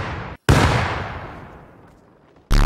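Grenades exploding in the video game Rust: a loud blast that rumbles and fades over two seconds, followed by the sharp onset of another.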